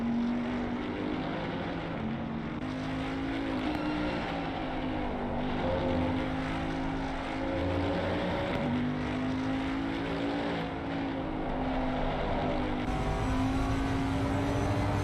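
A Bentley GT3 race car's engine in Assetto Corsa Competizione at Laguna Seca, heard from the bumper view through the corkscrew: a sustained, loud engine howl that rises and dips with gear changes and throttle lifts, alone throughout.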